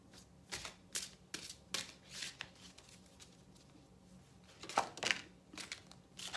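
Oracle cards are shuffled in quick, crisp riffles and flutters, a series of soft papery bursts close by with brief pauses between them, quiet overall and with no talking.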